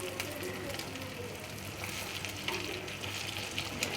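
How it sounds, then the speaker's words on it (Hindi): Shami kababs shallow frying on a griddle give a steady, dense sizzle throughout, close and fairly loud, with faint scraping or stirring noises mixed in. "सारे कबाब्स को मैंने ना उलट लिया है, और इनको हमने इसलिए शैलो फ्राई करना है"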